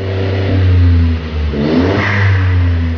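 Close and loud, the engine of a Stage 2 VW Up TSI revs with its exhaust diffuser fitted, holding a steady drone, dipping briefly, then climbing again.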